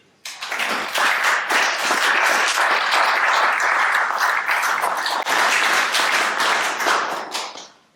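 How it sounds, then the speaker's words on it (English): Conference audience applause for participants at a national FASD prevention and support session, dense clapping starting abruptly and holding steady for about seven seconds before tapering off. "give yourselves all a round of applause"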